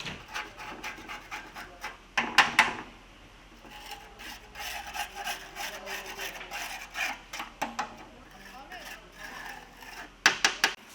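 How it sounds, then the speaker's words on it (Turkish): Caked grime is scraped by hand off the engine cover of a Citroen C4 1.6 that has oil and coolant leaks. Scraping strokes come in close, irregular bursts, with sharper rasps near the start and end. "Citroen aracımızın muhafazasını takmadan önce kalıplaşmış pislikleri kazıyoruz."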